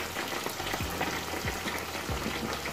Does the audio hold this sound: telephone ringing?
no